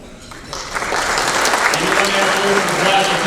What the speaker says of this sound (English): Let's have another round of applause for our previous inductees that are here